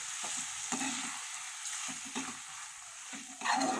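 Liver (kaleji) is stirred and mixed in a sizzling pan, a steady frying hiss punctuated by repeated scraping strokes of a spoon, close and moderately loud with no talking.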